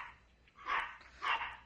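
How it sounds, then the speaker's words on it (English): A dog barks twice in quick succession indoors inside a building, two fairly distant, muffled yelps with a short gap between them and no talk over them. "It sounds like Little E's dog got in the building."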